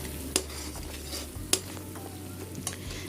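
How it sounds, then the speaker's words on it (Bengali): A paste of ground poppy seed, cashew and melon seed sautés in a pan for a Bengali doi katla, a steady low sizzle broken by three sharp clinks of a spoon against the pan. "এবার পেস্টটা দেওয়ার পরেও খুব ভালো করে কষাবো।"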